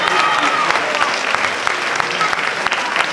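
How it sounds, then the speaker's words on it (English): Audience applause at the NABBA England 2019 classic bodybuilding competition, a loud, dense burst of clapping from the crowd sustained throughout, with an announcer's voice faintly under it. "give you guys a massive round of applause"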